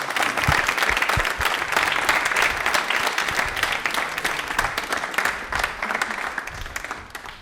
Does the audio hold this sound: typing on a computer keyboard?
no